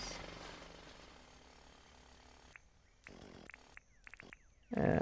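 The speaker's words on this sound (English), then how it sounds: "we need to get our jackhammer out and destroy a few things" Jackhammer in the video game Dinkum, a loud continuous rattling roar at first, then choppy bursts broken by short gaps before a final loud burst.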